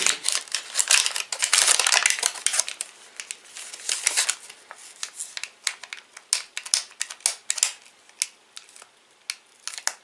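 Sticky tape is peeled off a varnished package in crackly bursts, with a rapid ripping stretch early on, then scattered short snaps and ticks, close up.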